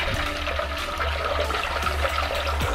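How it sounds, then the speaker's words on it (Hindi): About one litre of water pours steadily into pani puri masala with potatoes, a continuous close splashing gush filling the kitchen without pause. "पानी डालेंगे।"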